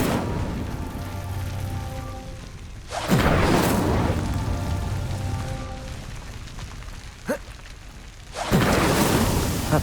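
An Incendio fire spell is cast in the Hogwarts Legacy video game: two loud, whooshing fiery bursts roar up over a constant crackling, rain-like hiss, with a brief sharp flicker between them and no talk.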